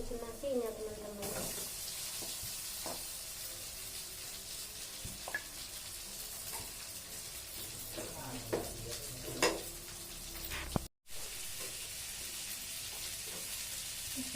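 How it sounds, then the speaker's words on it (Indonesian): Cooked rice for Javanese fried rice is stirred and tossed in a hot pan, with sizzling under repeated scraping and clattering of the spatula, a brief dropout near the end and faint background sounds. "jadi ada nasi, aku goreng aja nasinya"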